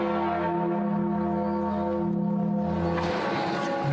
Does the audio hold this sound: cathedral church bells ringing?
yes